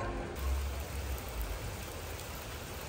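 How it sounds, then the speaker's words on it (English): Rain falls in a continuous, even hiss in Blanes on the Costa Brava, with no voices and no change in intensity. "Yeah, it's raining, guys."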